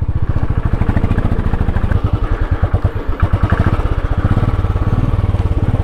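A motorcycle engine putters in a fast, steady rhythm close by, straining on a steep mountain track, loud and alone without voices.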